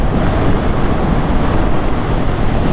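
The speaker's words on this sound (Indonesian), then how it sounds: "ini anginnya kenceng banget" Strong wind roaring steadily across a beach shoreline, a loud continuous rush buffeting the microphone with surf mixed in, no voices.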